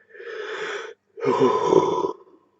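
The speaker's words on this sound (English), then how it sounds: "Yawning." A person yawning, two long breathy drawn-out exhalations with a short gap between them, close and clear with no talk.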